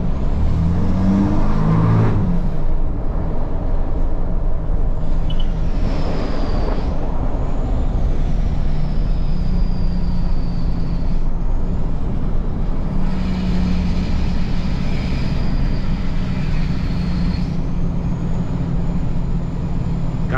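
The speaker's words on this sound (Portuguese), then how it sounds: "Mas vou te falar, cara, o barulho dessa caminhonete" A Ram 2500 pickup truck engine runs loud and close, its low rumble rising and falling with several revs and a whining pitch sweeping up and down.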